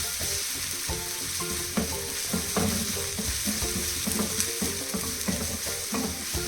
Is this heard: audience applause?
no